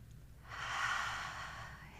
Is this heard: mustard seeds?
no